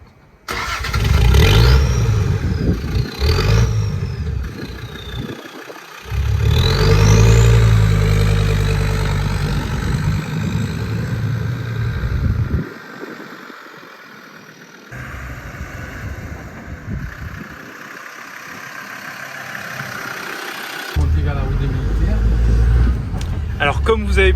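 A Land Rover Defender engine cranks and catches, then settles into a steady, low rumbling idle with a few shifts in pitch along the way.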